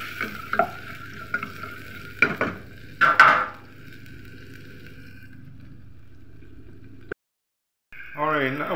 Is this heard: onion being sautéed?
yes